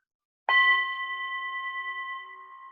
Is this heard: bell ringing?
yes